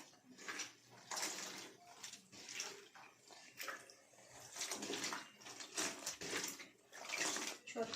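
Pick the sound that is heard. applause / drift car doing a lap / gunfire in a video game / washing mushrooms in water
washing mushrooms in water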